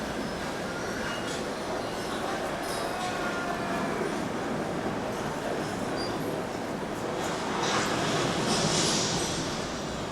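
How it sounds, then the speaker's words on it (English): Model trains run across a multi-level miniature railroad layout in an early-railroading display, a continuous rolling rumble of small wheels on track with occasional faint squeals and clicks, steady throughout with a slight swell near the end. "Trains on multiple levels vie for your attention in the background"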